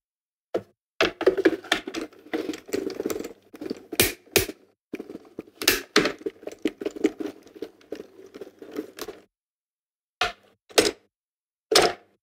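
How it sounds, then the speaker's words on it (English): A small die cutting machine running plates through, a series of clattering knocks and crank thumps in irregular bursts, with gaps of silence and a few sharp separate clunks toward the end. "So I'm just again using my little die cutting machine."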